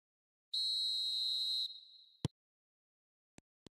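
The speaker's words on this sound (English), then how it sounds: "There's the whistle, and here we go." A referee's whistle blows once to start a Michael Owen football match, a clear, loud, steady tone held for about a second before trailing off, followed by a few sharp isolated clicks in a quiet background.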